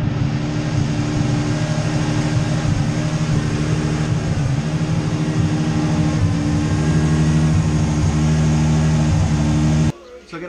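A car with an LS1 V8 engine idles steadily, a deep, loud and continuous drone close by that cuts off abruptly near the end.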